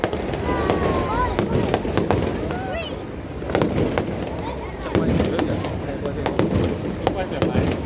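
A Saturday-night fireworks display in Australia crackles and booms in rapid, irregular bursts, sharp pops and whistling launches layered thickly over a continuous roar, with people talking in the crowd.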